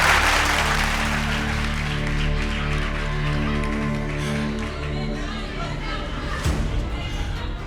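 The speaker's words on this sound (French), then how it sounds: "On les applaudit bien fort" Audience at a fashion show applauding, a dense, sustained wash of clapping and crowd noise with chatter and voices mixed in, loud and continuing throughout.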